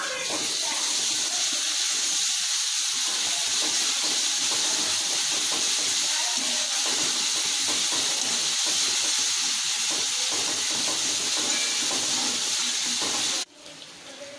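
Ginger garlic paste sizzling loudly with sautéed onions in a pan while cooking pepper chicken, a steady broadband hiss that holds close and continuous, then drops off sharply near the end.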